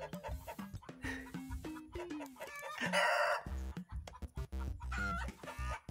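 Chickens clucking and squawking busily at close range, with overlapping calls and a rooster's crow rising in the middle, no talking.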